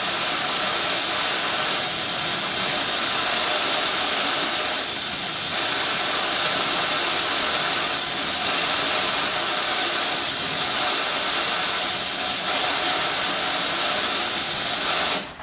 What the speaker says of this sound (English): my compressor is going to cut in and it's going to be really noisy